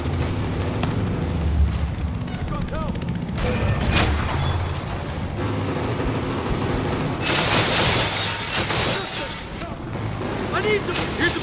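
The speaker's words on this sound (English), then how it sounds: "Grenade outbound!" A frag grenade going off in the shooter game Battlefield Hardline, a loud burst and boom within dense gunfire and game noise, with shouted voices throughout.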